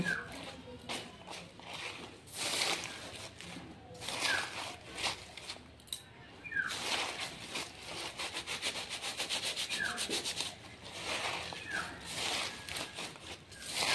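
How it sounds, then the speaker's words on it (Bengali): Leaves are rubbed by hand, one after another, to prepare them for rolling bidis: soft, irregular dry scuffing and brushing strokes, close and fairly quiet, with no talk. "পাতাগুলো ঘষে নেব, প্রত্যেকগুলো পাতা"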